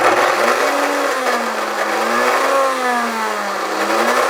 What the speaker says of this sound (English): Then we're going into the blender.